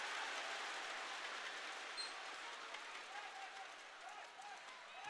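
A crowd at a taekwondo world championship semi-final applauds with steady, distant clapping that fills the arena, quiet and continuous, with a commentator's voice talking over it.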